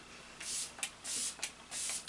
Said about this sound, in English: So I'm going to use the Wet n Wild Pick Me Up spray.